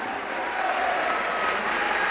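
Audience applause at a religious discourse gathering, dense sustained clapping from a large crowd filling the space, loud and steady throughout.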